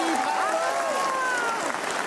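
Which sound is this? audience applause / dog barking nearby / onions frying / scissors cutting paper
audience applause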